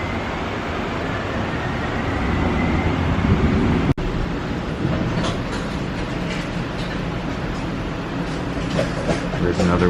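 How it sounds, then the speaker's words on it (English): A departing train rumbles along with a loud, steady roar and rattling clatter, one sharp clack partway through, in Portland. "The doors are closing. Train departing."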